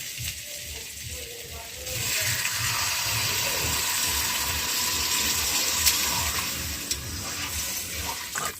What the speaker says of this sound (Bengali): মশলা কষা হয়ে গেছে, দিয়ে দেব পরিমাণ মতো জল